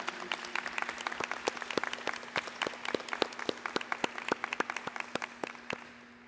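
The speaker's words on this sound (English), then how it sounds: "We need to all give them a round of applause" Applause from a commencement audience at a college baccalaureate ceremony honoring the commencement committee, with a steady stream of sharp individual claps in a hall, moderately quiet, fading slightly toward the end.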